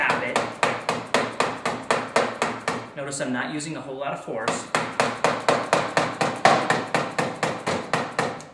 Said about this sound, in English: I'm going to grab my hammer, and I'm just going to gently tap it